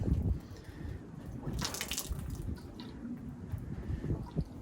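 Water splashes and gurgles as it is dumped out of a firearm silencer in a brief rush over a steady, noisy outdoor background.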